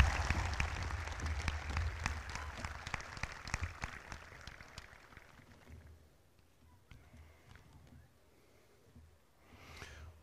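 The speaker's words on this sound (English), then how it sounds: "One more time, big round of applause for Emma" An audience at a high school graduation ceremony applauds, a broad wash of clapping that is fairly distant and fades out after about six seconds, leaving a quiet hall with faint scattered sounds.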